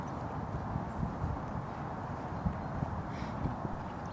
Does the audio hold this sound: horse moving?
yes